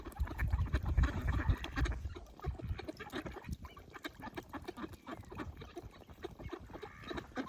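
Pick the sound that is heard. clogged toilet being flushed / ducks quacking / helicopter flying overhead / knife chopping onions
ducks quacking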